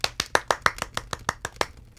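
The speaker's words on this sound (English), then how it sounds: "The clerk in the tank involuntarily applauded." A clerk claps his hands in spontaneous applause, about a dozen crisp, close claps in a quick, slightly uneven rhythm.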